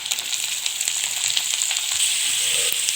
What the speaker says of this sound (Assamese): প্ৰথমে মই আলুগুটিকেইডোখৰ অলপ ভাজি লওঁ, ফ্ৰাই কৰি লওঁ।